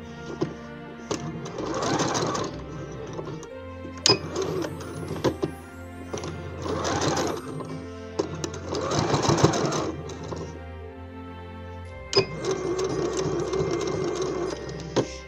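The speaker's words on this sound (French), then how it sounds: "je viens le coudre" A sewing machine stitches a ribbon hanger onto a Christmas decoration in bursts: several short whirring runs separated by pauses, then a longer run at the end, close and clear with light mechanical clicks between.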